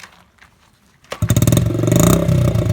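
A motorcycle fitted with a homemade tuned exhaust pipe fires up after a quiet moment, then revs loudly and steadily close by with a throaty, rising drone.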